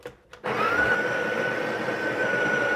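A coffee grinder starts up and grinds darker roast beans at grind size 8, a steady close whirring motor hum with a sustained whine after a few brief clicks.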